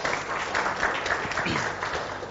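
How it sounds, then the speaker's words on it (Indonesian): Audience at an Indonesian talk program on poverty policy in Riau claps in a steady, moderately loud burst with faint voices underneath. "Tepuk tangan dulu dong untuk GoTV program."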